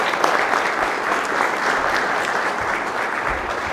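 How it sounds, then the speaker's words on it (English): Audience applause at an evening lecture, a dense, steady wash of many hands clapping together at close range with no speech over it. "How wise to have the applause at the beginning while the audience is still awake"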